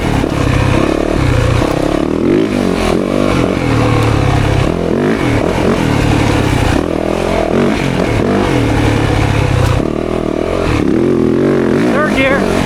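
A 2024 Yamaha YZ 450FX dirt bike roars loud and close on a woods ride, its engine revving and shifting continuously while the chassis clatters over rough terrain.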